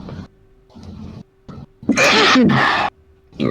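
A person sneezes loudly once near the middle, a sharp burst that stands well above the surrounding quiet room tone and brief low mouth sounds.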